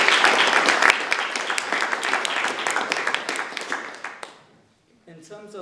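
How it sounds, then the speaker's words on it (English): Audience at an Oxford Forum Brexit panel applauding the panelists, a dense burst of clapping that fades away after about four seconds before a voice begins speaking. "Let's thank our panelists for being here today with a round of applause"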